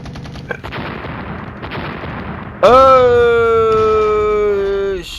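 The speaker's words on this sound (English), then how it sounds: "It's us bombing." Bombing and gunfire from the war strategy game Flashpoint Campaigns: Red Storm, with scattered bursts of shots followed by a loud sustained roaring whine from a bombing run.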